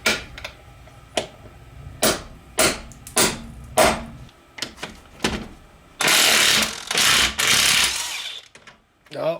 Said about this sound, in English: So we're gonna hammer it on.